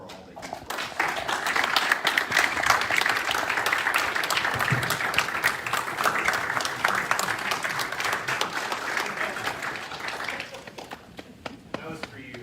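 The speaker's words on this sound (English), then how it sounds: "give our family members that are here tonight a strong round of applause for all they do for us" A crowd at a Masonic lodge Past Masters' event in Sugar Land claps strongly for attending family members, a sustained burst of dense applause that swells, holds for about ten seconds, then thins to scattered claps.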